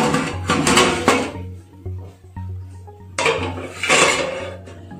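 A metal lid is lifted off a pot of prawn biryani, close clanks and scraping knocks of metal on metal with rustling handling between them.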